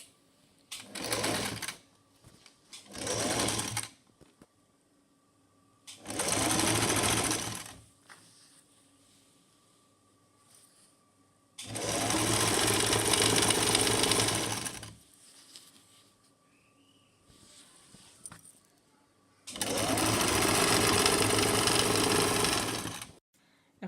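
Sewing machine stitching palazzo trousers in five loud bursts, two short runs then longer ones, separated by quiet pauses.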